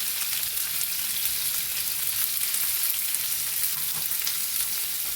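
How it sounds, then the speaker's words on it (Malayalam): Onions and green chilies fry in a pan for a methi aloo tomato curry, giving a steady, dense sizzle that holds at even loudness throughout, with faint stirring scrapes and no voices. "നന്നായിട്ട് ഉള്ളി ഫ്രൈ ആയിട്ടുണ്ട്"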